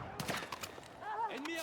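Rapid bursts of video game gunfire crackle in a quick volley during a night raid, with a voice speaking over the shots.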